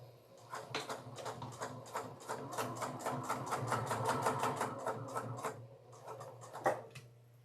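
A sewing machine top stitching fabric for a clutch bag, a fast even needle rhythm running for several seconds over a low motor hum before slowing and stopping.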